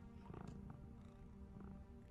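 Cat purring in the video game Tales of the Neon Sea, a faint continuous rumbling purr with no talking.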